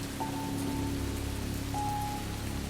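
Light, steady rain falls as a continuous even patter under a low rumble, with a couple of faint tonal hums passing through; no voices.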